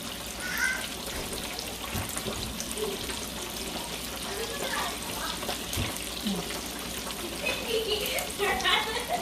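Vinegar escovitch dressing is poured over fried fish for Jamaican escovitch fish, making a continuous liquid splashing and trickling. Voices talk over it.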